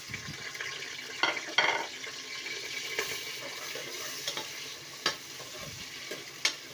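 Sliced onions frying in hot oil inside a pressure cooker for degi daal gosht: a constant crackling sizzle with intermittent sharp scrapes and clatters of stirring, close and moderately loud.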